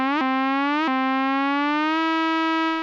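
FM synthesizer tone shaped by a Reverse Rhythm 1 sequenced envelope: a bright, buzzy sustained note with rich harmonics that swells upward twice in quick repeated ramps, then holds steady and fades slightly, no voices.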